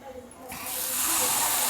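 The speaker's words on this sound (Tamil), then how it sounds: "இந்த கரண்டியில் ஃபுல்லாக எடுத்து ஊற்றுறேன்" Appam batter poured into a hot appam pan, a broad sizzling hiss that swells in about halfway through and stays loud and steady to the end.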